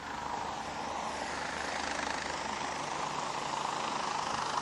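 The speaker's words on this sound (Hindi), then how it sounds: "सीएम साहब का हेलीकॉप्टर लैंड कर चुका है" A helicopter landing at a helipad before a chief minister's rally, its engine and rotor making a loud, steady, continuous roar with no breaks or voices.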